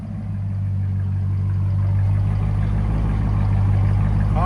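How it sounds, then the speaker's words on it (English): A 2025 Dodge Durango R/T with a 5.7L HEMI V8, X-pipe and Carven R-Series exhaust idles close by, a steady, deep burbling rumble that holds evenly throughout. "Let it idle for a second."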